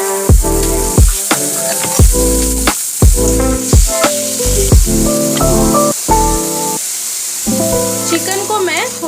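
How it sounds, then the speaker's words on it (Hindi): Chicken pieces sizzle in a pan for chicken soup, a steady crackling hiss running the whole time beneath louder tonal, voice-like passages that come in short bursts. "चिकन को मैं थोड़ा फ्राई कर लेती हूँ।"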